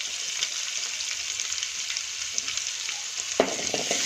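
Turmeric and green garlic sizzle in hot tempering oil, a continuous bright hiss with small crackles and a sharp clatter near the end, close and steady with no talking.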